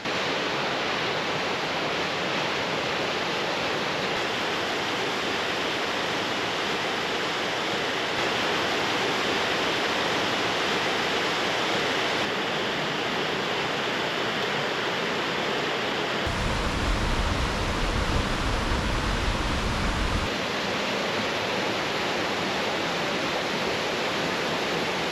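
Meigs Falls, a roadside waterfall in the Great Smoky Mountains, pours as a steady broadband rush of water, constant and moderately loud throughout, with a brief heavier low rumble partway through, likely wind or handling.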